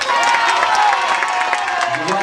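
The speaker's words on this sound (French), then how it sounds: "Je vous demande d'applaudir Jocelyne." Audience applause and cheering for Jocelyne at a costumed event, a steady wash of clapping from a crowd, fairly loud and continuous.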